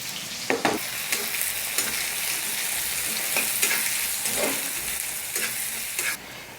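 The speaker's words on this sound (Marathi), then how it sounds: "आता एक मोठ्या आकाराचा कांदा एकदम बारीक असा चॉप केलेला त्याच्यामध्ये फ्राय करून घ्यायचा आपल्याला" Finely chopped onion fries with fennel seeds, a steady bright sizzle with spoon stirs and scrapes knocking at intervals, close and continuous.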